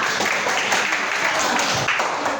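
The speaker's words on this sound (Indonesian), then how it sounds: "Oke, baik. Tepuk tangan." Applause from students in a classroom, a dense, steady clatter of many hands clapping that fills the short stretch at moderate loudness.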